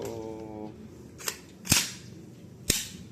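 A WE M4 GBBR Version 3 airsoft gas blowback rifle fires a few sharp, snapping pops with short gaps between them, close and loud against a quiet room.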